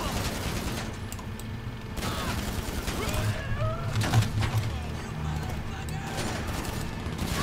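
Video game gunfire, a rapid clattering burst of shots mixed with other game effects and tonal chirps, with a voice talking throughout.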